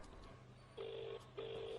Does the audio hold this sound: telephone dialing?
yes